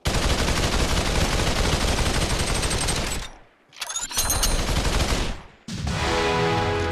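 Sustained rapid gunfire in the VR shooter Population: One, loud and continuous for about three seconds, a brief gap, then another dense burst and a final stretch of steady automatic fire.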